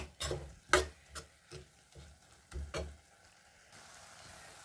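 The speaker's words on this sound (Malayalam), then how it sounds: "അപ്പോൾ ഞാൻ നല്ലതായിട്ടൊന്ന് ഇളക്കട്ടെ." A jackfruit seed laddu mixture stirred in a pan, several scraping strokes and knocks at an uneven pace with a faint sizzle underneath, then fading to quiet.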